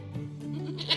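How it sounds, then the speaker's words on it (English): Goats bleating loudly, voiced by performers in a school annual day play, a short bleat rising to a bright, strained cry at the end, heard alone. "On a boat stood few goats were bleating loudly."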